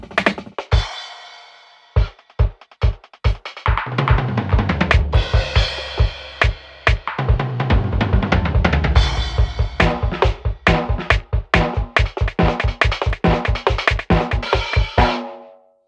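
Electronic drum kit playing layered, processed hits, starting with sparse strikes and building into a dense, rapid rhythmic pattern, loud and close with no talking.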